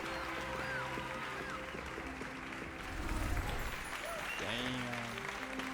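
Crowd applause in the video game Hogwarts Legacy, a steady wash of clapping from many students in a hall, mixed with speech and tonal game sounds, swelling briefly midway before settling.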